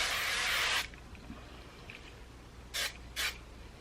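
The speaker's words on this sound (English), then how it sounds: "I'm going to go in with my hairspray, Big Sexy Spray and Play Volumizing." Big Sexy Spray and Play volumizing hairspray hisses from a can in one long close burst, then two short spurts follow after a pause.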